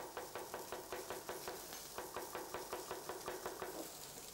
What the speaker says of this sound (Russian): Возьмем огурец, отбрасываем семечки и нарезаем.